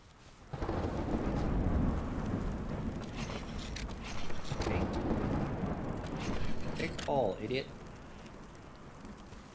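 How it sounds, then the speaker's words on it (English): A thunderstorm rolls in within the survival video game Smalland: Survive the Wilds, heavy rumbling thunder and rain building from a sudden onset and staying loud, with a brief chirping sound near the end. "Storm approaches."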